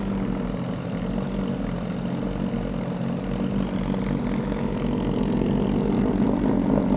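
An MV Agusta motorcycle engine idling with a deep, steady bass rumble that builds slightly toward the end, close and continuous, with no talk over it.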